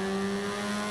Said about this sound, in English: Ah, that beautiful rotary engine